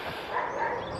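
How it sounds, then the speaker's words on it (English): A dog barks in a short, muffled burst, a single brief yelping bark heard at moderate distance. "There's barking, man."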